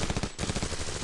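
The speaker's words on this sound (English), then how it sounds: "did you hear the fireworks?" Fireworks go off in a quick volley of rapid popping bursts in a comedy film scene, faint and distant-sounding, crackling in a short rhythmic string.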